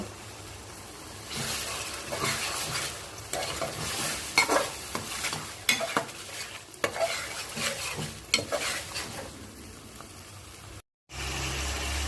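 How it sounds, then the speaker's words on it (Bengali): Tomatoes and spices frying for chicken curry, stirred continuously with a utensil, giving a steady sizzle with scraping strokes over it, close by, with a brief dropout near the end. "টমেটোগুলোকে আমি অনবরত নেড়ে চেড়ে চার পাঁচ মিনিট ধরে মশলার সঙ্গে কষিয়ে নিব"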